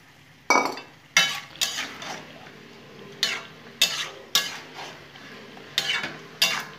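Marinated chicken and tomatoes are cooked in a pan. A utensil scrapes and clanks against the metal in irregular, separate bursts over a faint sizzle. The sounds are close, and no one speaks.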